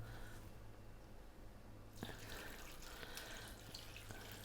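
Water runs from a tap into a cooking pot holding chicken legs and spices for chicken harees, a faint steady trickle that turns into a brighter, fuller splashing flow partway through, close by with no talking.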